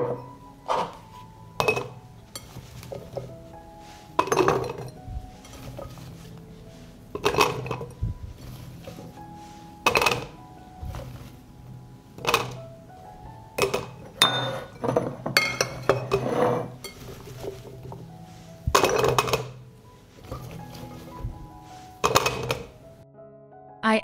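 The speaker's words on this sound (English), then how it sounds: "Now I will fill the clean and washed jars with pumpkin." Glass jars clink and knock together while being filled with pumpkin, with scattered sharp rings and taps at irregular intervals over low kitchen background noise.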